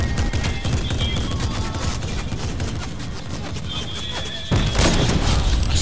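Rapid gunfire and thumping shots in Fortnite, with a louder burst near the end that fits a sniper rifle shot, set against steady game noise and faint voices.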